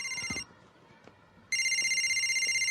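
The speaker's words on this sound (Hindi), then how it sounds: "उठा ले बेटा, तेरी मम्मी का ही फोन होगा।" A telephone bell ringing loudly in bursts, a pause with faint room sounds between them, then the steady electronic trill resuming up close.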